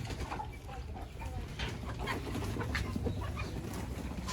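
Chickens cluck softly inside a coop at a village homestead in Uzbekistan, a continuous murmur of overlapping clucks with a low rumbling background.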